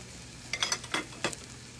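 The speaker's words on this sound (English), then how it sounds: "This is going to sear the outside really nice." Food searing on a 12-by-12-inch Lodge cast iron griddle over the highest heat, a close, steady sizzle broken by a few sharp bursts of crackle and spatter.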